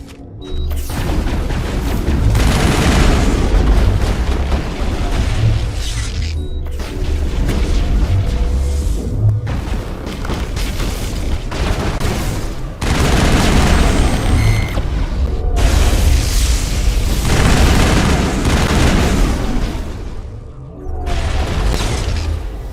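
Gunfire and explosions from a firefight in the Mass Effect 1 video game: dense, loud booms and weapon fire roll continuously with brief lulls, heavy low rumble underneath.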